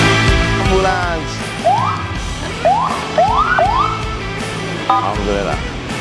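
An ambulance siren wails in repeated rising sweeps over a busy street background, loud and fairly near, with voices and a low rumble of traffic underneath.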